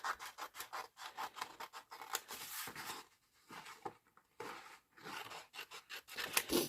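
Scissors cut close up through paper, snipping a mushroom picture out. Rapid rhythmic snips and papery rustles come in bursts with short pauses between them, and no one speaks.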